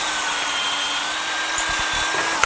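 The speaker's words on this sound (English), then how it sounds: "It's a long aircraft drill we're drilling with." A long aircraft drill bores through hardened bushings held in a drilling jig, giving a steady close whine that runs throughout, with a brief louder bump near the end.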